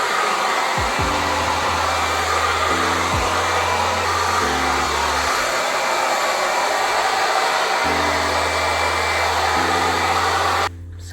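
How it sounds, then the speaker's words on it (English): A hair dryer with a diffuser blows on curly hair, a loud, steady close-up roar that shifts slightly in pitch as it moves, then cuts off just before the end. "I'm gonna go in with my diffuser and just diffuse my hair."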